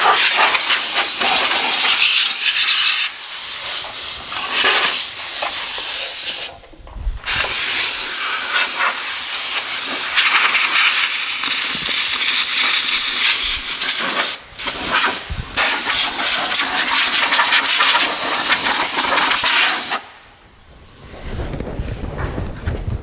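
Compressed-air spray gun blasting Lanoguard underbody protection into a vehicle's nooks around the mud flap bracket: a loud, continuous hissing spray in long bursts, cut by brief pauses and a final stop.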